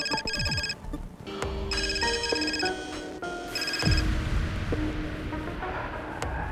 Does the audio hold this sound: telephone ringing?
yes